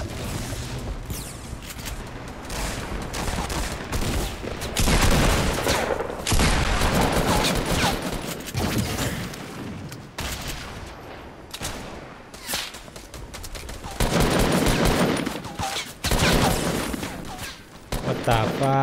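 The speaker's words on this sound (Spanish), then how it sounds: "Está aquí disparándonos a saco" Rapid bursts of gunfire in the video game Fortnite, loud volleys of automatic shots in repeated clusters with short gaps between them.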